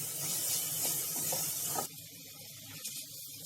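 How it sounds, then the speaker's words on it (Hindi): Sliced onions frying in hot oil toward a deep brown for a potato jhaal curry, a steady close hiss and sizzle that thins out partway through into a quieter, patchy crackle. "अब हम इसको तब तक भूनेंगे जब तक प्याज कैरेमलाइज नहीं हो जाते"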